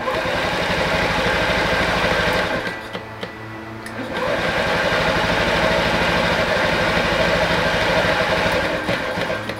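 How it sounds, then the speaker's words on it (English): A Honda Ruckus scooter engine, just after carburetor cleaning, runs with a loud, steady close buzz, dipping briefly before picking back up and holding at a constant idle. "Now that it's on, let's see if we can start it."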